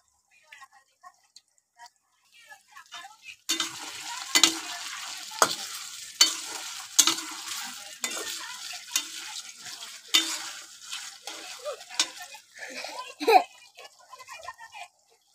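Cut potatoes frying in oil in a home kitchen: after a few quiet seconds, a dense sizzle rises and continues, broken by repeated clatters of stirring and handling in the pan.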